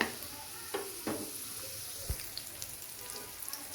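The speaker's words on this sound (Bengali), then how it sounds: "তেল গরম হয়ে গেছে। এখন 1 কাপ পরিমাণ পেঁয়াজ অ্যাড করে দিলাম। এখন ভালো করে নেড়ে দিতে হবে।" Onions frying in hot oil and being stirred, a quiet continuous sizzle with a few scattered clicks and spoon scrapes.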